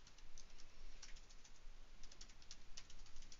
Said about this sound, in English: just type in cheat give colors